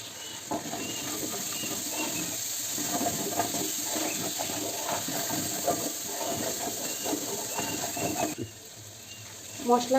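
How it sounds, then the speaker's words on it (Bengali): Mustard paste and spices fry in oil with a steady, broad hiss and crackle, continuous and fairly close, before dropping abruptly near the end into a quieter pause with a few faint clinks. "দিয়ে দিচ্ছি সরিষা বাটা ভালোভাবে কষিয়ে নিব মশলা"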